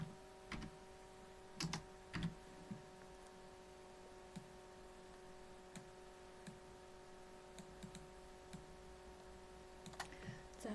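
Keys on a computer keyboard are tapped in short, sparse bursts of close, light clicks over a low electrical hum in a quiet room.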